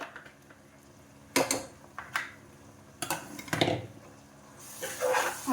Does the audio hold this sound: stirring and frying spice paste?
yes